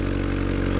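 A Honda car engine runs steadily close by, a dense continuous drone with a slight rhythmic pulse, caught in a brief revving moment.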